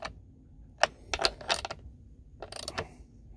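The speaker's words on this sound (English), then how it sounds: "I'm going to tighten it all the way down." Tightening the bar bolt on a Stihl chainsaw with a damaged oil tank: a few close, sharp mechanical clicks and ratcheting scrapes come in short separated bursts over a quiet background.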